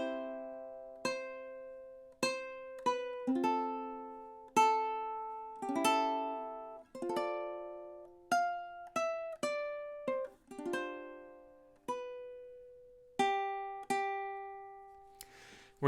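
Ukulele plucks out four measures of the Star Spangled Banner alone in a quiet room, single clear notes and small chords ringing and decaying one after another at an unhurried, beginner pace.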